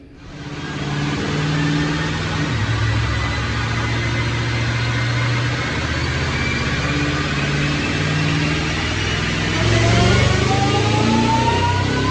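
A supercharged 2009 Mustang automatic with an Edelbrock supercharger runs a dyno pull, its engine droning steadily and climbing in pitch as revs build, with supercharger whine on top, loud and continuous throughout.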